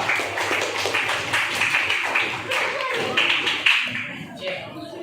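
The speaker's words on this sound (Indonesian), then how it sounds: "Tepuk tangan untuk kelompok 2." Classroom audience at a teacher-training session claps for a group that has just presented, with scattered, uneven hand claps and taps mixed with talk and fading toward the end.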